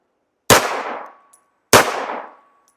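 Two sharp, loud gunshots from a Beretta pistol firing Underwood Xtreme Defender 380 ACP ammunition, each a crisp crack with a brief ringing decay, spaced about a second apart.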